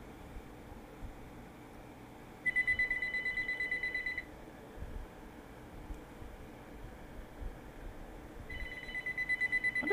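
A telephone rings in two bursts of rapid electronic trilling, one early and one near the end, over a low hum of room noise with no speech.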